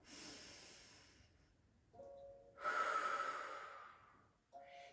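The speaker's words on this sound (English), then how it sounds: "Now take a nice deep inhale." A prenatal Pilates participant lying on her back draws a deep breath in, then lets it out, with airy hissing breaths rising and falling in long, soft waves close to the listener.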